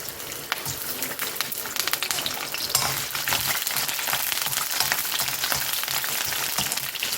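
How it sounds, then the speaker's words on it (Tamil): Coconut frying in hot oil in a pan for tomato kulambu, a dense, continuous close sizzle with crackling pops and occasional stirring scrapes, with no voices. "இப்போ எண்ணெயில் வந்து தேங்காயை போட்டுக்கலாம்"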